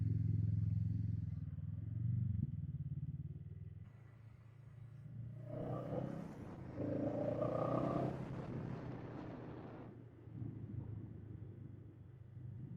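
Honda CMX 500 Rebel motorcycle on a test ride, its low engine rumble steady and close, with a rise in revs and a busier mechanical rush midway before settling back to a lower drone.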